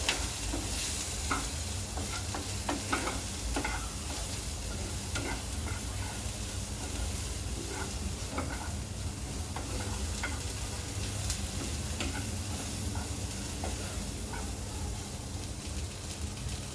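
Carrot and green peas stir-fry seasoned with amchur powder is tossed in a pan, giving a steady soft sizzle with repeated scraping stirs and light spoon taps, close and continuous throughout.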